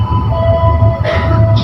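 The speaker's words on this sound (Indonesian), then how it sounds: "Kereta api komuter lain Supas berhenti di stasiun Pasuruan kurang lebih cuman 20 menit untuk memutar arah lokomotif." Supas commuter train with its locomotive at Pasuruan station, a loud close rumble of rail cars with a sustained tonal whine and a burst of hissing brake air near the end.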